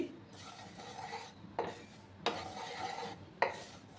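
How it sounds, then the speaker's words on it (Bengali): Sesame seeds dry roasting in a pan are stirred with a utensil, giving soft rasping scrapes with three sharper knocks against the pan, quiet and close with no talk. "তিলটাকে হালকা আমি ড্রাই রোস্ট করে নিচ্ছি।"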